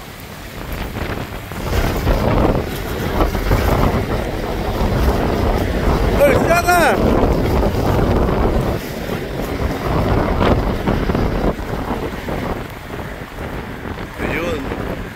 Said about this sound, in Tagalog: Guys, malakas ang hangin dito guys.